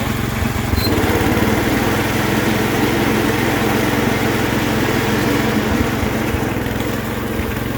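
John Deere 112 riding lawn mower running steadily nearby, a loud droning engine with the whirring hum of the spinning blades, continuous throughout.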